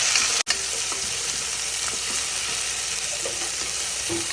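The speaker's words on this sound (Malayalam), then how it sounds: "നന്നായി വഴറ്റുക." Onions, green chillies and tomato are sautéed in a pan for crab roast, giving a continuous close sizzle with light stirring scrapes and a brief dropout near the start, with no voices.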